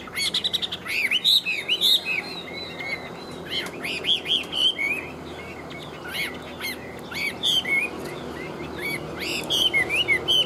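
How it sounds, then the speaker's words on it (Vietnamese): A songbird sings from a cage: bright, clear chirps and whistled phrases come in repeated bursts over a steady background hiss, close and fairly loud. "Chim quá đẹp luôn, hót tốt các bác nha."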